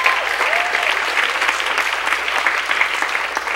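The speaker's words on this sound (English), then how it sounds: "he deserves a round of applause" An audience at an education town hall gives a steady round of applause for a speaker coming to the stage, even, moderately loud clapping that continues throughout with no voices over it.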